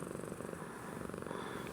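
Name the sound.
Siamese cat purring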